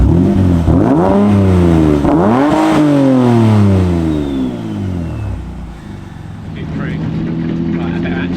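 A Ford F100 pickup with a twin-turbo Nissan 370Z engine swap accelerates through several rising gear pulls, loud and close, then settles to a lower cruising drone.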